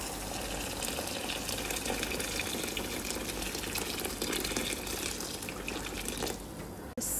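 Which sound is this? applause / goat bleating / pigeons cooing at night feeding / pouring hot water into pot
pouring hot water into pot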